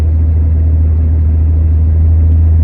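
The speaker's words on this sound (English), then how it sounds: "Now when I'm idling, all you hear is that squeaky serpentine belt." 2000 Jeep Cherokee 4.0 idling with a steady low engine drone, loud and close; a squeaky serpentine belt is not clearly distinct over the rumble.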